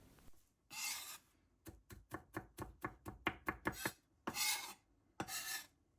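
A kitchen knife chops garlic cloves on a cutting board, with quick rhythmic taps in bursts between a few longer scraping rasps as the chopped garlic is gathered and pushed aside, close and fairly quiet with no talk.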